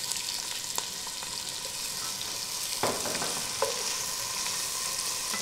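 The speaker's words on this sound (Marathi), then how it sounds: "आता कांदा घालायचा, कांदा आणि हिरवी मिरची उभी चिरलेली." Sliced onion and slit green chilies frying in oil for a vegetable biryani, a steady soft sizzle with a few stirring clinks and scrapes, close but fairly quiet.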